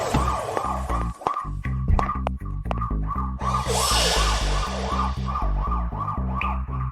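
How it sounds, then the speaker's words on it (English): A loud, wailing ambulance siren cycles rapidly and repeatedly up close, over a heavy low engine rumble and some rushing noise. "The ambulance is here."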